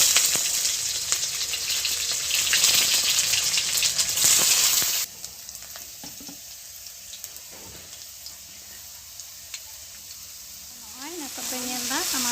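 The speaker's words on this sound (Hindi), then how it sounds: "पियाजिñ लगावा" Onions frying in oil in a Santali home kitchen, with a loud close sizzle for the first few seconds, then a quieter hiss with light stirring and brief voices.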